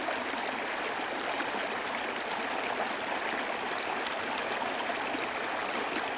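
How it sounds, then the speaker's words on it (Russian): A small river babbles over stones, a steady, even rush of flowing water heard up close, with no voices. "Послушаем, как журчит речка."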